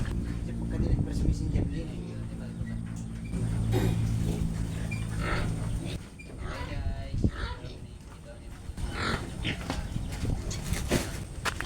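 Pet pigs, a native sow and her piglets, eating water spinach (kangkong), with grunts and oinks mixed with rustling and chewing over a steady background; people talk throughout.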